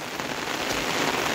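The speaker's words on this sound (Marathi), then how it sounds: "पाऊस जर असंच चालू राहिलो" Heavy monsoon rain pours steadily onto a full pond, a dense even hiss of drops with no breaks or other sounds.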